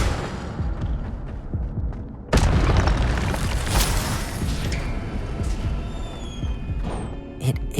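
A video-game Incendio fire spell goes off with a sudden loud booming blast, followed by a roaring, crackling rush that fades over several seconds, with faint tonal effects trailing behind.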